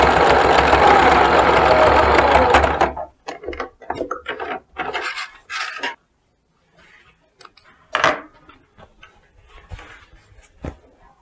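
A sewing machine stitches a hat with the needle plate removed, running steadily and loud for about three seconds before it gives way to scattered handling knocks and rustles, with no talking.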